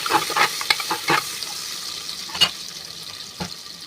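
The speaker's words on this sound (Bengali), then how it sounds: "এবার দিচ্ছি গাজর, বিনস দিয়ে ভালো করে সব নেড়ে" Carrots and beans stirred in a pan for a vegetable egg biryani: a cluster of close spatula scrapes and knocks at the start, then sparser single strokes over a soft background hiss, with no speech.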